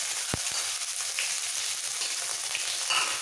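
Grated ginger frying in hot oil for dal fry: a continuous close sizzle with one sharp knock near the start and a few faint clinks scattered through, with no speech.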